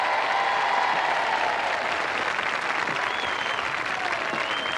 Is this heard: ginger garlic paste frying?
no